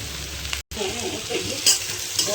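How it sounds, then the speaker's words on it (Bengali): Sliced onion frying in oil in a pan while dried red chillies are prepared for a paste, a steady close sizzle with light stirring, broken once by a brief dropout. "এই পেঁয়াজটা ভাজা ভাজা হয়ে গেছে"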